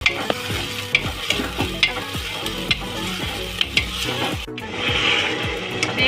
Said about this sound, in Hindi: फिर इसको बहुत ही अच्छे से भूनेंगे जब तक इसकी स्मेल ना चली जाए।